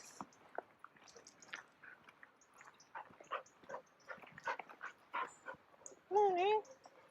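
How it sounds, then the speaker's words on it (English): A dog carrying a ball approaches on a garden walk in Felixstowe, giving a short whimpering, squeaky vocal burst near the end that follows several seconds of scattered footsteps, rustles and quiet passing voices. "Just approached by a dog with a ball, waiting for me to give it a throw."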